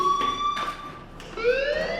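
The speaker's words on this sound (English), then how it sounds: "Hey, do you hear that fire alarm?" An electronic fire alarm rings in the video game Life is Strange, a steady high-pitched tone that cuts out, restarts and then rises in pitch, with faint background noise and no talk.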